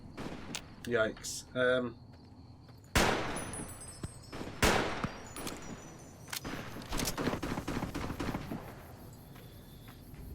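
Battle gunfire in Fallout New Vegas, with sharp, loud shots and bursts sounding from near and far at irregular intervals. A brief spoken exclamation comes partway through.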